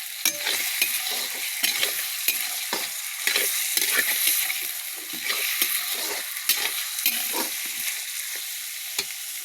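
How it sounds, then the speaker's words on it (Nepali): Pork frying in a pan over an open flame, with a loud close sizzle and repeated scraping stirs in an uneven rhythm; no one speaks. "बङ्गुरको मासु पाक्दैछ हेर्नुहोस् आगो बल्दैछ होइन"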